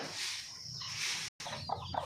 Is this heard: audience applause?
no